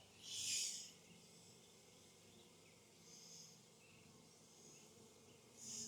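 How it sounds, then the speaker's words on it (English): Honey bees buzz outside a hive, a faint steady hum with a few louder passes as individual bees fly close by, at the start and again near the end. "No, these are just the bees that are looking to find their way back in."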